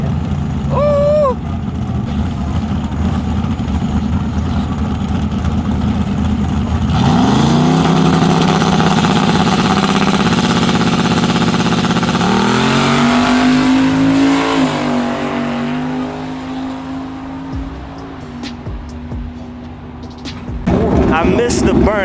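A truck engine revs hard at a drag race, a loud sustained roar with rising and falling pitch and a sharp climb midway, while crowd voices and talk carry on over it.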